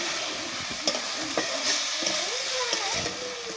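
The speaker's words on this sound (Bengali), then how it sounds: "দিয়ে আমি আবার ভালোভাবে একটু নাড়াচাড়া করে নেব।" Poppy seed paste with gourd stems and potatoes is stirred in a pan. A spoon scrapes and taps several times, clearly and close up, over a soft background sizzle.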